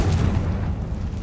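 A Confringo blasting spell explodes in the video game Hogwarts Legacy, one short, loud, deep boom that rumbles and fades over about a second.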